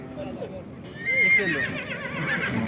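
A horse gives a brief, somewhat distant whinny amid the bustle of the Karakol livestock market, heard over background chatter and crowd noise, with people talking nearby.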